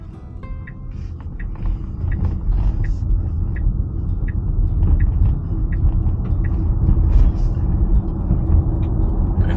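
A Tesla Model Y drives and accelerates, giving a steady low road rumble and tyre drone heard from inside the cabin, quiet and even throughout with no engine note and no talking.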